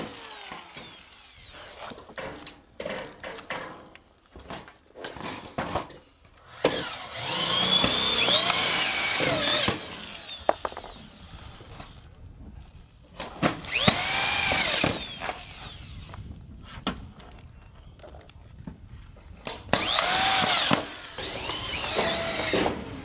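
Power drill driving fasteners through a metal wall panel into a base angle, with several bursts of whirring, some short and some lasting a couple of seconds, separated by clicks and handling clatter, near and fairly quiet.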